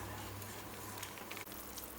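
Fresh ginger juice poured into boiling tamarind water for a ginger gojju curry, giving a faint, steady liquid trickle and low bubbling simmer, quiet and close, without talk.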